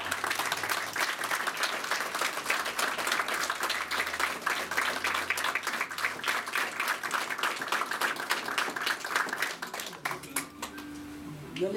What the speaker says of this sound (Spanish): Yo quiero que den un fuerte aplauso a este grupo